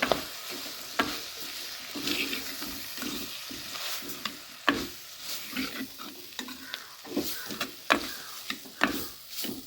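Cuttlefish tossed with curry powder, Jaffna style, is stirred in a pan. Quiet frying sizzles beneath repeated sharp scrapes and clicks of the spoon against the pan, steady and close, with no talking.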